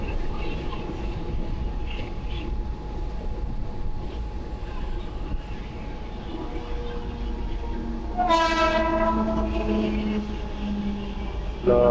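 A train pulling away from Malpur station rumbles steadily close by, and a long multi-tone horn sounds loudly near the end over the crowd-filled platform noise.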